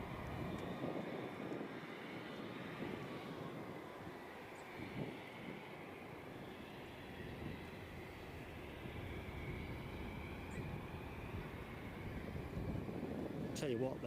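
A Turkish Airlines Airbus A321 at Edinburgh airport produces a sustained jet engine roar heard from a distance outdoors, steady and broad, with faint background noise throughout.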